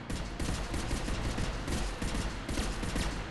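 Rapid gunfire from the video game Mass Effect: Infiltrator rattles in a dense, continuous fusillade, loud and unbroken for the few seconds heard, with no speech over it.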